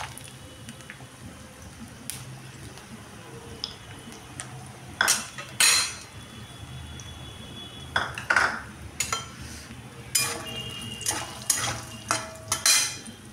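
Peanuts dry-roast in a pan with whole coriander and black pepper, stirred with a utensil that scrapes and clinks against the metal in irregular bursts over a quiet background.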